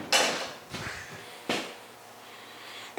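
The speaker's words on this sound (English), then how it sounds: "Let's see if I can pop that door open." The door of an abandoned 1956 Chrysler Windsor Newport clunks and pops as it is worked open, three sharp knocks spaced apart with faint creaks and rustle between, close by and with no talk.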